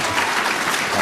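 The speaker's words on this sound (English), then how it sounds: "Please welcome Brother Abdul Alim Muhammad with a warm round of applause." Warm audience applause welcoming a speaker at a Chicago mosque event, loud and close, a thick continuous roar of clapping hands.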